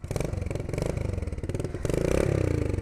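A Kawasaki KLX110 dirt bike engine idles after an oil change with a close, steady, rapid mechanical putter and clatter, loud and even throughout.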